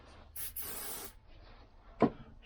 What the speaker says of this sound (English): spray a bit of oil in there